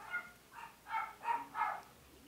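Dogs bark faintly in the distance, five short barks at a fairly even rhythm over quiet background hiss.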